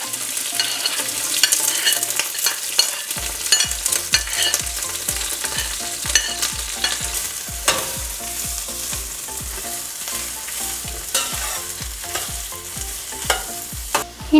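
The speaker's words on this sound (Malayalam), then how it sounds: "ഇനി അതിലേക്ക് നമുക്ക് എടുത്തു വെച്ചിരിക്കുന്ന ഈ ചേരുവകളെല്ലാം കൂടി ഒരുമിച്ച് തന്നെ ആ എണ്ണയിലേക്ക് ഇട്ട് ചെറുതായിട്ടൊന്ന് വഴട്ടിയെടുക്കാം." Ingredients for a Kerala fish curry sautéing in hot oil: a loud, steady sizzle with rhythmic stirring scrapes that become regular after the first few seconds, no voices.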